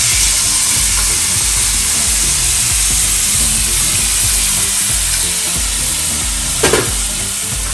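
Loud, steady sizzle of seafood searing in a hot pan for cioppino, a constant close frying hiss with a brief clatter near the end and no talking.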